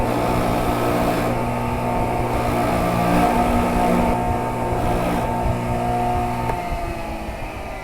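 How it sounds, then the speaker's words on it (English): A wire wheel spins against a rusty brake caliper pin, a loud steady motorized whir with a sustained grinding buzz that holds constant for several seconds before easing slightly at the end, close by and without speech. "I'm going to hit that with the wire wheel"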